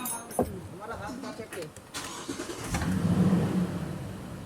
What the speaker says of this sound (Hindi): गाड़ी स्टार्ट करेगा।